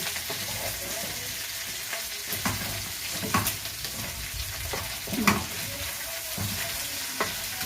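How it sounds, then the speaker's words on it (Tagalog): Garlic and rib meat frying in a pan while being stirred, with a continuous close sizzle and repeated scraping, clattering strokes of the utensil at an irregular rhythm. "Ihahalo ko na itong mga karne"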